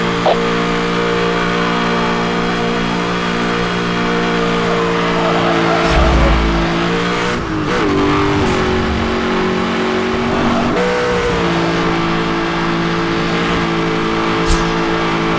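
Police chase in the racing game Need for Speed Hot Pursuit Remastered, with loud, continuous engine drone from speeding cars, shifting revs and brief tire squeals and skids throughout.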